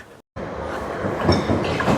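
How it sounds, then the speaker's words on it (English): Long electric train passing close by, a loud rumble with rail clatter and wheel noise building after a brief cut at the start. "And here is train number 1. An electric thing. Quite a long train, that's good."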